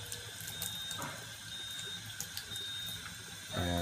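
Regular tap water running steadily from a kitchen faucet into a sink where tomatoes soak, a constant close hiss with faint clicks, then a brief louder gush at the end.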